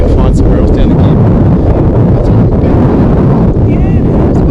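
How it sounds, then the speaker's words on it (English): Strong wind along the Gibb River Road in the outback, loud continuous buffeting and roaring gusts battering the microphone throughout. "Yesterday was a little bit windy, today's windier again"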